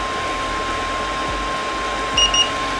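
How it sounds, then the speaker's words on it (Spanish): A Totcooly 3-in-1 gadget running in air-conditioning mode gives a steady broadband whir of turbine and fan, with a faint high electronic tone running through it and a short pair of beeps near the end. "este dispositivo, el Todd Cooley, hace bastante ruido"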